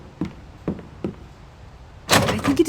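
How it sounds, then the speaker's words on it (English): A locked door tried in The Da Vinci Code game, set in the Louvre: three short, quiet rattles of the handle, then a louder, fuller clatter of the door as it holds. "I cannot open the door. I think it is locked."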